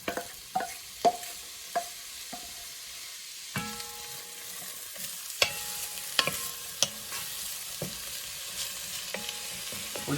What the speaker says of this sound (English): we're gonna throw our onions now in, get some oil, spread it around